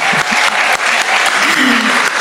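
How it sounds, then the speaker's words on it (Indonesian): A student talk show audience gives loud, close applause for four speakers, brisk clapping with a few sharp individual claps standing out and a faint voice briefly rising beneath it. "Sekali lagi tepuk tangan yang meriah untuk keempat narasumber."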